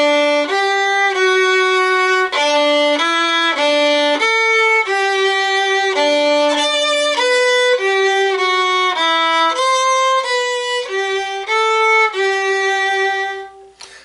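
Solo violin plays the Happy Birthday melody, its bowed notes clear, close and loud, phrase by phrase with no accompaniment, ending with a brief fade.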